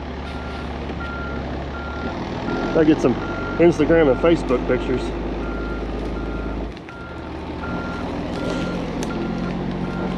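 A large dump truck backs up toward an edge, its reversing beeper sounding in a steady series of loud pulses over a low engine rumble while someone talks nearby.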